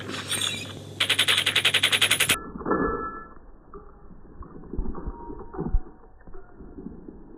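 Machine gun bursts in Call of Duty Mobile: a rapid, loud stream of evenly spaced shots lasting about a second and a half, followed by quieter in-game effects and rumbling.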